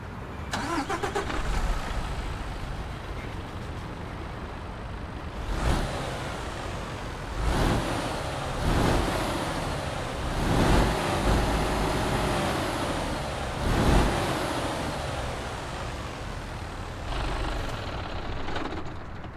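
A Mercedes Actros MP4 truck engine in Euro Truck Simulator 2 cranks and fires up, heard from outside, then idles with a deep rumble, revving in several bursts before settling; no talking.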